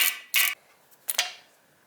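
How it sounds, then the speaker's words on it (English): A ratchet wrench undoes 10mm bolts in a BMW E36 engine bay with short bursts of rapid clicking separated by pauses. The sound is close and bright with no talking. "Start off by unbolting these two 10mm bolts"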